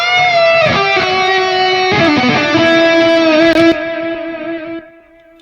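Electric guitar solo through a Nux MG30 running a Soldano amp emulation with stacked delays, sustained distorted notes and bends trailing into echo repeats, loud and upfront, fading at the end.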